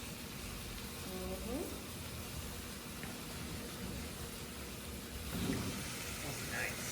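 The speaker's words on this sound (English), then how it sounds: "Oh, yep, hear that sizzle." Seasoned chicken sizzling in oil in a skillet, a steady hiss of frying throughout with brief clatters and voices in the background.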